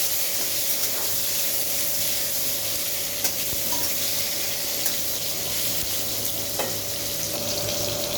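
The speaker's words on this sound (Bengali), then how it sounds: "আগে আলুটা দিলাম, আলুটা আগে একটু ভেজে নেব।" Potatoes frying in oil in a pan for a rui fish curry with green chillies, a steady close sizzle running throughout with faint stirring clinks, no talk.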